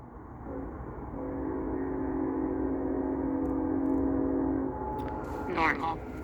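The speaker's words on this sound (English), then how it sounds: "And there went a train just then." A train passes in the distance with a long, steady horn tone held for several seconds, fading out before a voice speaks briefly at the end.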